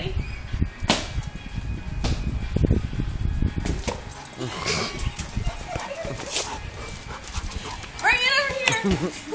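A dog plays goalie with people nearby, giving loud sharp barks and scuffling movement throughout, while people talk over the action.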